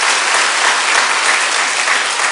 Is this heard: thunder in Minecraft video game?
no